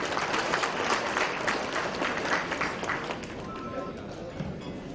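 An audience at the eBihar 2014 inaugural event applauds for the NASSCOM president, a fairly quiet, steady patter of many hands clapping that gradually thins out toward the end.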